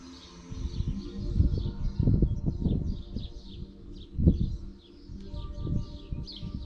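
Small birds chirp faintly outdoors in short, scattered bursts, set against low, intermittent rumbling thumps nearby.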